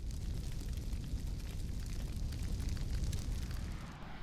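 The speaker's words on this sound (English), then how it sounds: "we're moving on to the 100 kiloton NX-02 nuclear missile, the cruise missile" A 100 kiloton NX-02 nuclear cruise missile launches in the Arma 3 video game with a dense, roaring rumble that holds steady for several seconds before easing slightly.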